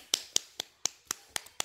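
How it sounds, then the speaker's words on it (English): Seven sharp hand claps in a steady, evenly spaced rhythm, crisp and close, played as a sing-along clapping cue for a children's alphabet sounds lesson. "Clap, clap your hands."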